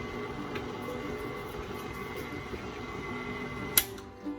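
Electric mixer running at a slow speed, blending egg, sugars and vanilla for oatmeal raisin cookie dough: a steady mechanical whir held close and even throughout, with a brief clatter near the end.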